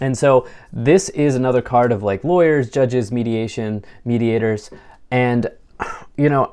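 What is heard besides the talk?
No everyday noise stands out behind the speech.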